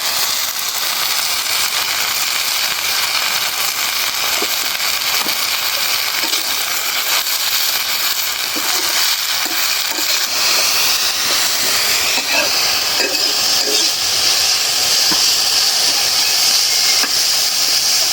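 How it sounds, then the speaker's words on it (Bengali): Pumpkin greens with a pinch of salt hit a hot pan, producing a loud, continuous hiss of sizzling that holds steady throughout, close up and with no talking. "এখন দিয়ে দিব মিষ্টি কুমড়ার শাক একটু লবণ দিয়ে দেয়"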